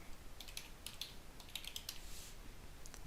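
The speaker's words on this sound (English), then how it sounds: "we just type in our password" Faint, quick keystrokes on a computer keyboard as a password is typed, a few short bursts of clicks spread across a quiet background with no talking.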